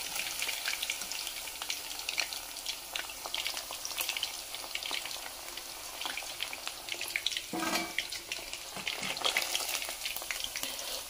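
Chicken frying in a kadhai over a gas flame, a continuous close sizzle with stirring scrapes and a brief louder splash-like burst midway, no talking.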